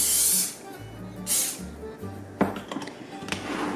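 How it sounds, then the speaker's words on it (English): Nonstick cooking spray hisses into a springform pan in two short, close bursts, followed by light clattering handling noises. "we're just going to give it a spray down with some nonstick spray on the bottom"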